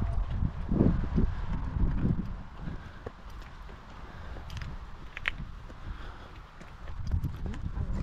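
Irregular hoof clops on the ground as a horse wearing a fly mask moves nearby in the French Vexin countryside, mixed with rustling and light wind noise, no clear speech.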